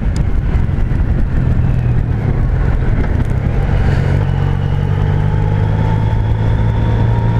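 A Yamaha Niken three-wheeled motorcycle riding on a dry road and braking, its engine a loud steady drone with a rising and falling whine under strong wind rush.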